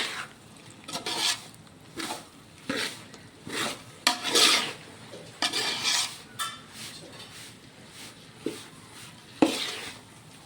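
A spoon scrapes through a thick mixture of urad flour for adadiya in a pan over a high flame, giving about a dozen close, rough rasping strokes in an uneven rhythm with short pauses between them.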